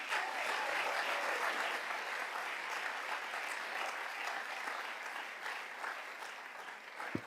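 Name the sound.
audience applause for retiring teachers and staff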